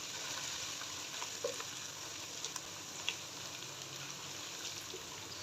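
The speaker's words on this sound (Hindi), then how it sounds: "पिसी हुई अदरक, इसको भी 30 सेकंड के लिए कुक कर लेंगे हल्का सा।" Ground ginger frying lightly in oil for sarso ka saag, a faint, steady hiss with a few soft pops and no talk.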